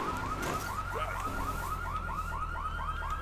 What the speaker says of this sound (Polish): czym tu karetki jeżdżą za oknem?